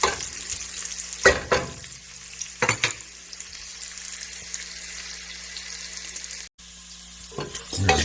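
Grease renders as food fries in a pan, with a constant low sizzle and a few loud clattering bursts of stirring or handling at intervals, no talk.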